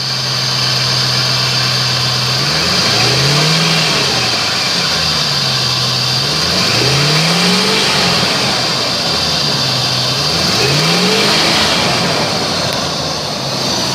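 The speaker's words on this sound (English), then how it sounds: "Does have a slight exhaust leak." A 2005 Jeep Grand Cherokee engine with a slight exhaust leak runs steadily at idle, loud and close, with a low drone and a faint rhythmic rise and fall.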